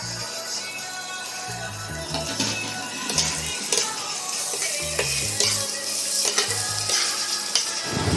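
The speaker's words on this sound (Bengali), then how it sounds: "একটু হালকা হাতে নাড়াচাড়া করার পর পেঁয়াজগুলো যখন বাদামি হয়ে আসবে সামান্য, তখন আমরা বেছে রাখা মাছটা দিয়ে দেব" Fish frying in a pan with browned onions while being stirred, a loud close sizzle broken by repeated scraping strokes of the spatula against the pan in an uneven rhythm.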